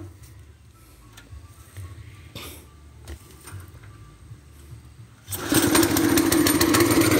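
A T3BT60N brush cutter engine turns over and catches after about five seconds of quiet mechanical handling, then runs loud and steady with a buzzing two-stroke drone until the end.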